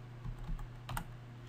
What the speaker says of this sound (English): if I start typing again